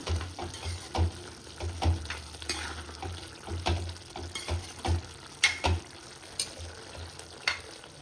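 Chili powder and masala being stirred into mutton kheema frying in a pan, with a steady close sizzle and repeated spoon scrapes and clinks in an irregular rhythm throughout.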